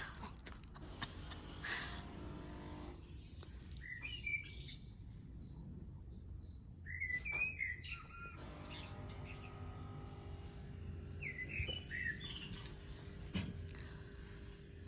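An early-morning chorus of small songbirds at 6 a.m.: scattered bright chirps and short trills come from a distance against a quiet, faintly noisy outdoor background.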